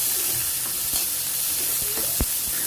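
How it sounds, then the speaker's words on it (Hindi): Chopped onions sizzling in hot oil with browned garlic in a home kitchen pan, a steady close frying hiss with occasional stirring clatter and one sharper knock near the end. "ये हमने डाल दिए हैं प्याज।"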